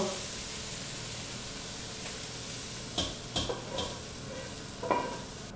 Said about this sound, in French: on le fait dorer un peu, pas plus que ça